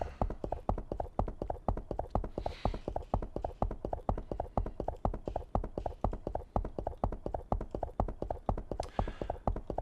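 Horse hooves clip-clop in a steady, even rhythm throughout, with quiet background and no talking, in the online role-playing game Age of Cignare Online Remaster.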